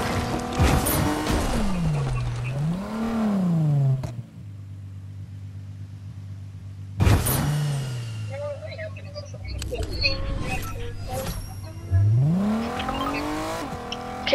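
Cars racing in a video game, engine tones revving up and sliding in pitch with brief tire squeals and a steady idling drone between bursts, loud and close, with players talking over it.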